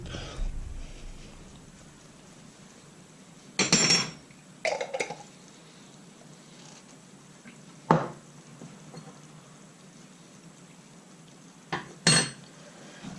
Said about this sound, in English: and we'll just stir that through